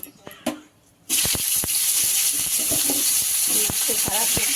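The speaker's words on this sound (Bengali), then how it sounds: "উচ্ছেগুলো ভেজে নেওয়া হবে লাল লাল করে" Loud, steady sizzling of bitter gourd frying in hot oil bursts in after a brief quiet moment, with scattered clicks and light stirring throughout.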